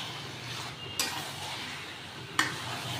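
Mutton pieces and fat being stirred in a hot pan, a steady sizzle with two sharp scrapes of the spoon against the metal, close and alone.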